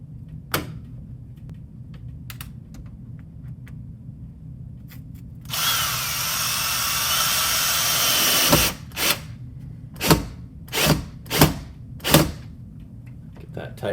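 A power drill fitted with a Craftsman bit drives door hinge screws in one sustained whir of about three seconds, followed by several short trigger bursts, close and loud.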